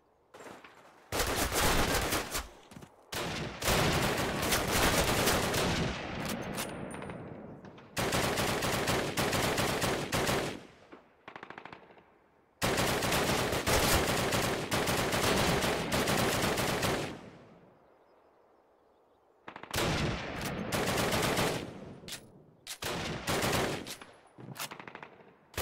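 Call of Duty battle gunfire, long loud bursts of rapid machine-gun and rifle fire coming in repeated volleys separated by brief pauses.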